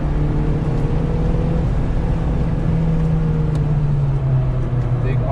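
A race car's engine drones steadily and close up as it accelerates along the Carolina Motorsports Park circuit during a high-performance driving session, its pitch slowly shifting, with a voice talking over it.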